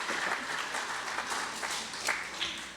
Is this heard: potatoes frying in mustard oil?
no